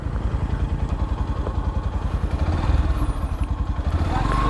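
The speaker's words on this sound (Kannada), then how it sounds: "ಒಂದೇ ಒಂದ್ಸಲ ಎಕ್ಸಾಸ್ಟ್ ನೋಟ್ ಕೊಡ್ತೀರಾ ಗಾಡಿದು? FZ ಅಲ್ಲ ಇದು?" Yamaha FZ15 v3 motorcycle idling close by, a steady low throbbing exhaust pulse with a slight swell partway through, running alone without talk.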